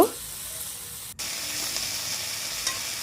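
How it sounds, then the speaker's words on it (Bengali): Malabar spinach (pui) and potato being stirred in a hot pan, with a steady broadband sizzle and hiss running throughout and a brief sharp click near the middle. "এবার পুঁই মিচুলিটা আর আলুটা ভালো করে একটু নাড়াচাড়া করবো"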